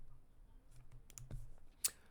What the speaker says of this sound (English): Let me just pause some of these videos.